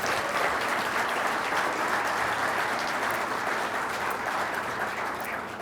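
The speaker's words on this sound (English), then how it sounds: "Give them a round of applause, please." Steady, dense applause from an event audience fills the whole stretch at an even level, with no voices standing out.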